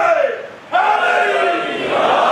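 A crowd at a Muharram religious gathering shouts a slogan in unison, a loud massed roar that dips briefly and then surges back strongly.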